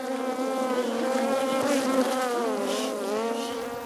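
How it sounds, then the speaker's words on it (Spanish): Dense, steady buzzing of many Africanized honeybees swarming close by, a continuous droning hum with wavering pitch as individual bees pass near. "Esas abejas que estamos trabajando son abejas africanizadas"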